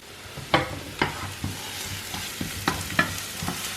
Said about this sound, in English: we're just frying off the onions just now